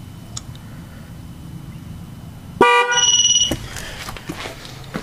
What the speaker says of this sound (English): I'm going to hit trigger. Should get a horn honk.